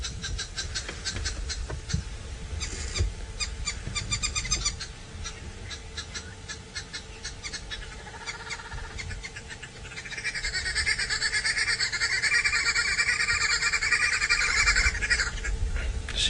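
A family group of green wood hoopoes cackles and chatters in a noisy, overlapping chorus on a dawn safari, with rhythmic calls rising louder and more excited toward the end.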